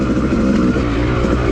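A Yamaha YZ250 two-stroke dirt bike takes a short shot of throttle over muddy whoops on a woods trail, a loud, close, buzzing rev that lasts only a moment.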